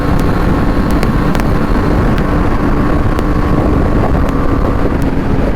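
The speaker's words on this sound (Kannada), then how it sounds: "ಏನಾಗಿದೆ ಇವತ್ತು ಬೈಕ್ಗೆ ಈ ಥರ ಟಾಪ್ ಸ್ಪೀಡ್ ಟಚ್ ಮಾಡ್ತಾ ಇದೆಯಲ್ಲಪ್ಪ." A BMW G310R motorcycle runs flat out near its top speed of about 164 km/h. A loud, steady roar of wind and engine fills the whole stretch without a break.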